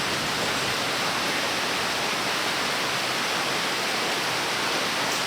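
Heavy rain falls in a rainforest, a loud, dense and unbroken hiss that holds steady from start to finish with no voices.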